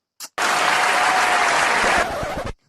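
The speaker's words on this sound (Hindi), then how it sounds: "ताली मारो" A brief burst of loud, dense clapping from a group, starting abruptly after a short click, holding steady for about two seconds and then thinning into a few scattered claps before stopping.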